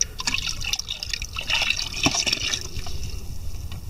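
Plain table vinegar is poured into a container, producing a close, continuous splashing and trickling liquid sound throughout.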